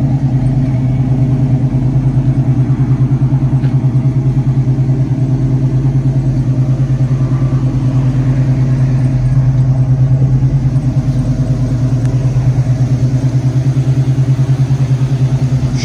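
A fully restored 1970 Chevrolet C10 short-bed pickup with an overhauled engine idles, a loud steady low rumble with an even throb that holds for the whole stretch, close by, with no talking.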